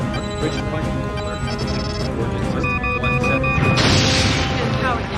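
Phaser fire and explosions in the Star Trek: Borg game, tonal zapping beams over a heavy rumbling bed, ending in a louder blast.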